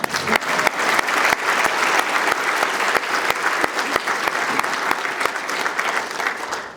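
Sustained applause fills the room from a crowd at a town's State of the Community ceremony, broad and continuous with a few sharper individual claps standing out near the front before it begins to thin at the end.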